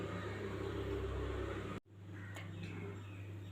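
A steady mechanical whir and rumble of a mixer grinder running loudly as it grinds rasam spices, cutting off abruptly partway through, then a softer motor hum continues.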